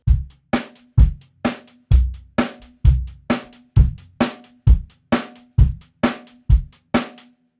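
A drum kit in funk tuning plays a basic beat alone: a steady, even stream of punchy kick and snare hits, about two per second, loud and close with a ringing tuned snare.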